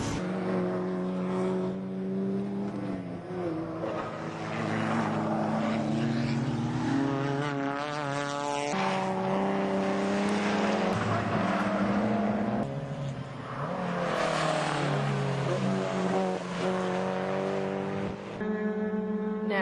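Touring race cars, including a Mazda RX-8, scream past on a circuit, several engines overlapping with rising and falling pitch as they accelerate and brake, loud and sustained throughout.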